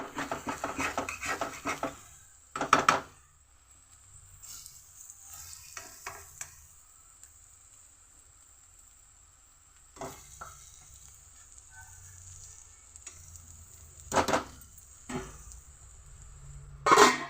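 Egg pieces fry in a pan and are stirred now and then, giving soft sizzling with intermittent scraping bursts, fairly quiet, with no talking.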